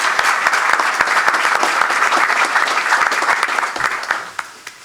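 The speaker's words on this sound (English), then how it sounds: "Let's give them a hearty round of applause" A press-conference crowd claps in sustained, dense applause that stays loud and steady, then thins and fades toward the end.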